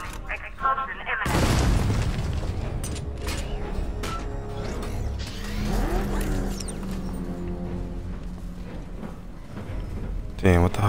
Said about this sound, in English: Warning. Explosion imminent.